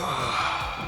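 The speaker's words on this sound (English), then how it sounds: "the doze dab sounds like this if you're wearing a male outfit" A short breathy exhale-like sound from Fortnite's doze dab emote as voiced for a male outfit, a single soft sigh or snore lasting about a second, close and alone.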